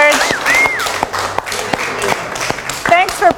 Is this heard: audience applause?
yes